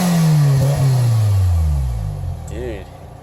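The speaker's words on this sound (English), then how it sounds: "give you a little rev clip" A 2005 Toyota Celica GT fitted with an aftermarket exhaust revs up loudly up close, then the pitch falls away as it settles, with a second short blip near the end and a voice speaking over it.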